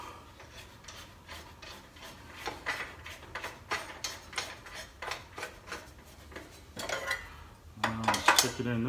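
A metal wrench clinks and scrapes against a saw blade nut while the blade is changed, giving a string of sharp ticking metallic taps and rubbing, with a louder clatter near the end.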